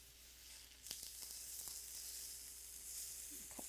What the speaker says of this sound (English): even with that tiny bit of oil, I'm gonna brown them a little more today.